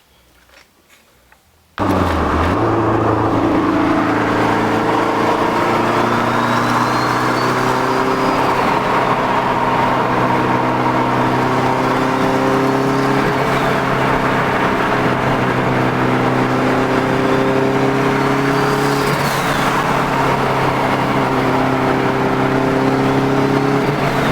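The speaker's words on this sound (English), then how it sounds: "so drove the car all the way over to Toyonda and back" A Toyota MR2 fitted with a K24 engine drives along with a steady, loud engine drone and road noise, the pitch rising and falling through gear changes under acceleration.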